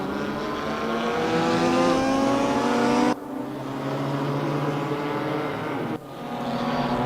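GT race cars at Mantorp Park scream past with high revving engines, loud and close, the pitch sweeping as they pass, with abrupt cuts between shots of successive cars.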